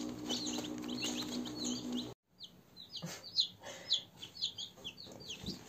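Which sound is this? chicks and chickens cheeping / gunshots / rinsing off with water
chicks and chickens cheeping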